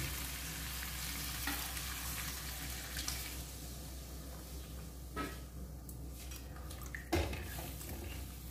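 Hot water hits braised chicken in a pot, raising a quiet steady sizzle and bubbling with a few sharp splashes and clinks, the loudest splash near the end.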